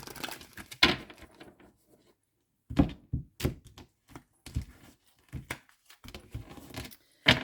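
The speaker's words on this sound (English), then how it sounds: "let's quickly shuffle some cards to clarify with" Tarot cards are shuffled by hand in bursts of soft riffling, tapping and thunking, with short quiet gaps between each handful and no talking.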